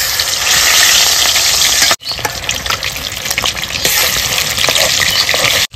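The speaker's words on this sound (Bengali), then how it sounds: "গরম হয়ে গেছে, মাছগুলো ভেজে নেব।" Fish pieces fry in hot mustard oil in a kadai, a dense, loud, continuous sizzle and crackle with brief stirring gaps.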